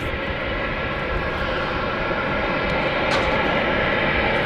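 A Ryanair airliner at Manchester Airport gives a loud, steady engine roar that holds evenly for the whole stretch with no voices over it.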